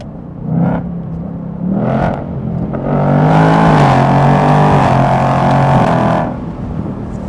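A 2024 Mustang GT engine revs and accelerates hard with a loud, throaty race-mode exhaust, rising in pitch and holding a roar before easing off.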